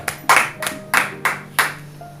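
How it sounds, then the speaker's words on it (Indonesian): A church congregation claps in praise, about six sharp, loud, evenly spaced claps in a slow rhythm, each one ringing briefly in the room over a faint background hum. "Tepuk tangan bagi Tuhan"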